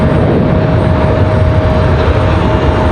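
Boeing 737-800 airliner departing heavy from Raleigh-Durham airport, a loud, steady broadband jet engine roar that holds constant throughout with no voices.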